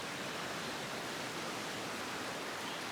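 River running high after a storm in Puerto Vallarta, a constant broadband rush of flowing water, even and fairly faint, with no break or other sounds.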